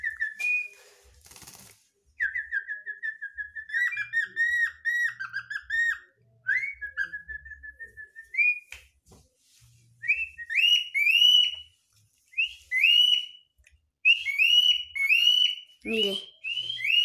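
A parakeet whistles repeated bright, sliding phrases close by in short bursts separated by gaps, while a person speaks briefly at times.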